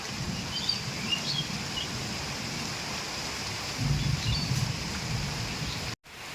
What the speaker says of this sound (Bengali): বন্ধুরা দেখেন বাতাস কীরকম, যেরকম বৃষ্টি সেরকম বাতাস।